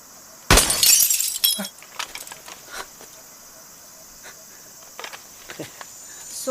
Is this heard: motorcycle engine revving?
no